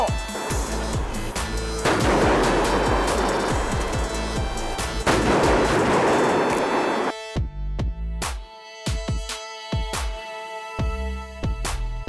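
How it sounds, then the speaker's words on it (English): A DP-12 tactical shotgun firing at an indoor range, with a rapid series of loud, booming shots that reverberate heavily, then a few more spaced blasts. "So this is the DP-12. I've never shot it before"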